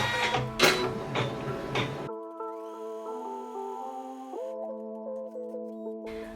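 A Janome 550E single-needle embroidery machine runs a placement stitch, opening with a short burst of rapid clatter before settling into a steady, close motor whine whose pitch steps up and down as the needle travels.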